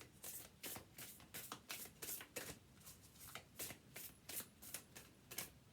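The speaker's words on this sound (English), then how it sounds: "let's pull you an oracle card and see what the universe has to say to you today" Oracle cards being shuffled by hand in quick, rhythmic riffling bursts, about a dozen crisp card flutters repeating steadily, close and clear with no talking.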